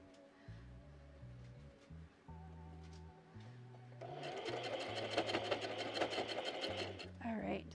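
A domestic sewing machine stitches fabric in a craft session, its motor running in steady bursts of rapid mechanical whirring that grow louder and denser in the second half, with a voice talking faintly underneath.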